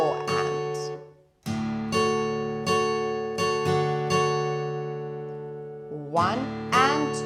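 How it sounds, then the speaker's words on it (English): Acoustic guitar chords strummed in a syncopated down-and-up rhythm, steady strokes ringing alone with a brief pause near the start and quick sliding strums at the end. "So we have a down strum and then an up strum"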